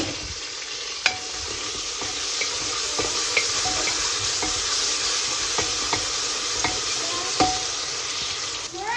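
Ginger garlic paste sautés with browned onions in a pan for tomato chutney, giving a steady close sizzle broken by intermittent scraping and clinking stirs throughout.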